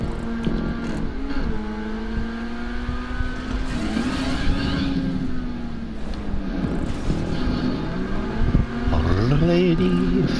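Grotti Furia sports car engine in GTA Online revving and accelerating, the pitch sweeping up and down through gear changes, loud and continuous throughout with a final climbing rev.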